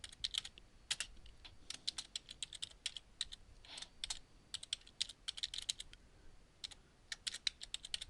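Steady typing on a computer keyboard while writing code, with quick bursts of key clicks and brief pauses, heard up close with no speech.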